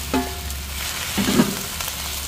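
Broth poured into a pan of sautéing mung beans and dried shrimp, raising a sizzle and bubbling burst over a steady background frying hiss, close by with no talk.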